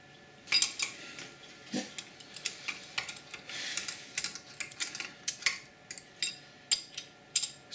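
Small socket head cap screws being fitted into a metal fixture plate for an AR15 gas block, heard as many light metallic clicks and taps in an irregular rhythm, close and fairly quiet.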